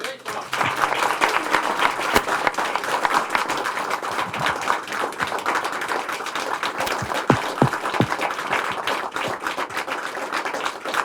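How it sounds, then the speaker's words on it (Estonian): An audience claps steadily as agreements are signed at a ceremony in Järvamaa, Estonia, recognising the Indigenous peoples of six counties. The dense, even applause continues throughout, with faint murmuring under it. "enne ma võime teha aplausi selle tulemuse eest"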